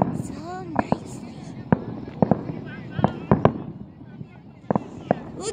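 Fireworks at an outdoor show burst in a scattered series of sharp, moderately distant pops and cracks, some in quick pairs, over a steady background hum with faint voices.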